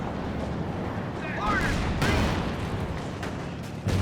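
In a Company of Heroes 2 battle, an M36 Jackson tank destroyer opens fire on a Panzer IV: a heavy cannon boom rises out of dense, rumbling combat noise, followed by further distant shots.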